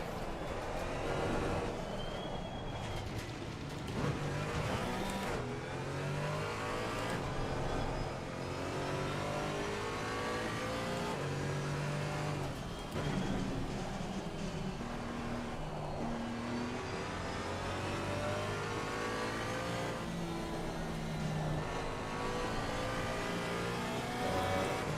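A race car engine at Spa-Francorchamps on a wet track in a racing game drones steadily throughout, rising and falling in pitch as the driver repeatedly lifts off and reapplies the throttle.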